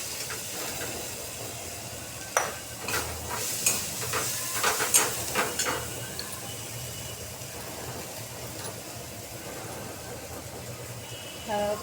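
Mustard seeds popping and sizzling in hot oil in a home kitchen while cooking masala rice: a steady soft hiss with a cluster of sharp crackles and spits in the middle, fairly quiet and close.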